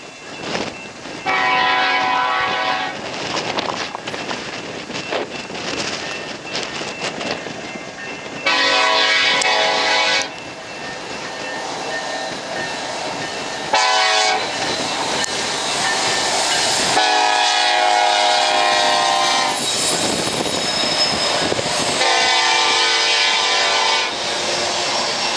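A BNSF coal train races past at Sentinel Butte, North Dakota, on a cold, windy day, its horn sounding in several loud, sustained blasts over the continuous roar and rumble of the passing cars.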